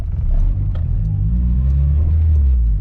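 A K20-swapped Honda Civic EM2 pulls through second gear at light throttle, its engine note rising smoothly in a close, steady rumble with no talking.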